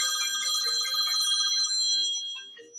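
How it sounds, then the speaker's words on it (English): A phone's ringtone rings loud and close, a steady bright electronic melody with stacked tones that keeps sounding throughout and only starts to fade near the end, with no voices over it. "My phone's ringing."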